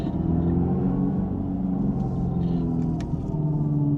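Synthetic engine note from an electric Dodge Charger in sport mode, heard from inside the cabin: a loud, steady low droning rumble that holds throughout with slight swells.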